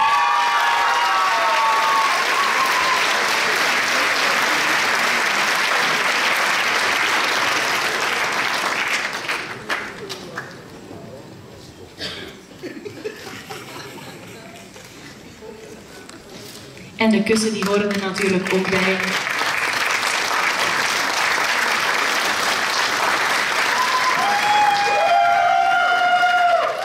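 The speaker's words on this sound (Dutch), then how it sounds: "Maar uw hartelijk applaus voor Jana Breugelmans." At a Miss Fashion 2017 finale, a crowd applauds and cheers loudly for the Miss Photogenic winner. The applause fades while a presenter talks, then surges again and continues until the end.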